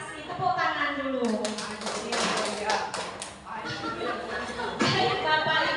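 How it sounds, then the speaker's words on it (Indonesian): Audience of teachers at a school workshop clapping, a cluster of taps and claps running under speech and chatter for several seconds. "Tepuk tangan dulu."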